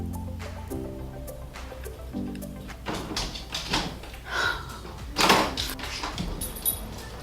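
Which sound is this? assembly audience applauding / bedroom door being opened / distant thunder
bedroom door being opened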